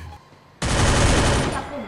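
Rapid burst of gunfire from the mobile shooter game Free Fire, bursting in loud and sustained after a brief quiet lead-in, close and dense with no pause.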